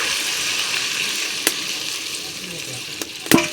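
Water goes into a pot of hot mutton curry with potatoes, raising a steady, close sizzle, with a few sharp clatters toward the end.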